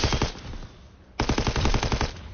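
Machine gun fire in Call of Duty WW2: two loud rapid bursts of evenly spaced shots, close and punchy, separated by a brief lull, no talking.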